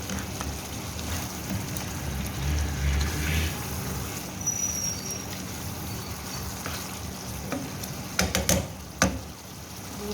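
Chicken with ghiya (bottle gourd) sizzles steadily as it is fried and stirred in a pan, a continuous hissing crackle with a few sharp clinks of the utensil near the end.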